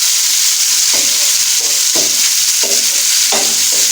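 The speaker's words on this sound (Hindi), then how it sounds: "अभी हम किशमिश भी इसी ऑयल में फ्राई कर देते हैं" Raisins frying in hot oil for Kabuli pulao give a loud, steady, close sizzle, with a few soft stirring scrapes at intervals.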